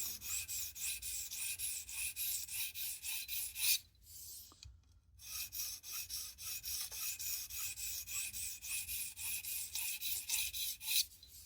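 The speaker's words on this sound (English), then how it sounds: "Just light pressure. You're not trying to grind the hell out of it. Let the stone do the work." A knife blade stroked on a sharpening stone in a Tsprof Pioneer guided sharpening system, with quiet rhythmic rasping passes at a steady pace, a brief pause near the middle, then the strokes resume, with no talking.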